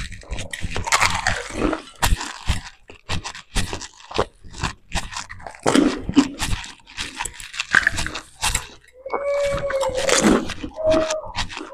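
Crunchy fuchka (pani puri) being eaten in a fast eating challenge, close irregular crunching and chewing with wet bites, mixed with brief bits of talk.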